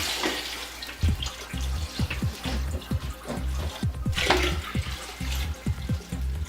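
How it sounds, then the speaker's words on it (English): Fresh water is poured into a glass tank in a steady gurgling stream with bubbly splashes, close and continuous, with no talking. "And so now we're just going to pour the fresh water straight into here."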